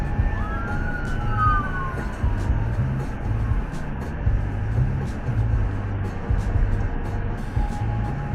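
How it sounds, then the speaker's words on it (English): A police car siren wails continuously in rising and falling sweeps, loud and close, over road noise from traffic. "followed closely by police, who waited until right behind them before turning on the siren"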